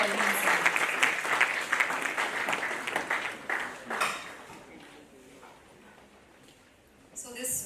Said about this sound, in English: So a huge round of applause for Dr. Balbir Singh.